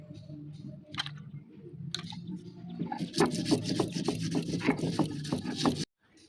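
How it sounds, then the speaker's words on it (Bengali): Yellow and black mustard seeds are ground together, a steady wet rubbing and scraping with repeated rhythmic strokes that grow busier toward the end, then stop abruptly. "এখানে হলুদ সর্ষে আর কালো সর্ষে ব্যবহার করবো আমি। একসঙ্গে বেটে নেব।"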